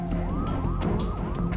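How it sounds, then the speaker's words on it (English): Police sirens wail outside, a repeating rising-and-falling electronic tone cycling several times, moderately distant and muffled, under a low background hum. "soon after, police sirens outside"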